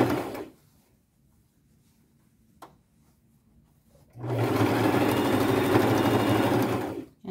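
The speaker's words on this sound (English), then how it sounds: "And then I'll just sew and do real big pleats." Sewing machine stitching large pleats into a thrifted nightgown being made into a dress: a brief run at the start, quiet for a few seconds, then a loud steady whirring run of about three seconds, with no voices.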